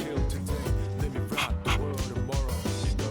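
Koro, the dog from Persona 3 Reload, lets out short yips and barks in quick succession, set against a busy game music track.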